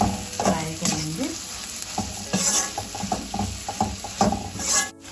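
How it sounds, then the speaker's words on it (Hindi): Gram flour (besan) frying with momos in a hot pan, a steady close sizzle broken by the scrape and clatter of a spoon stirring, with no voices over it. "इसको भी हम इसी के साथ इस तरह से फ्राई करेंगे।"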